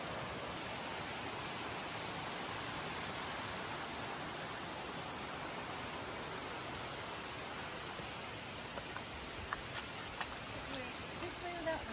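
Broad, steady rush of a sizable river flowing below through the jungle near Tegalalang, Ubud, in Bali, a constant distant roar of water that runs unbroken, with a few faint clicks near the end.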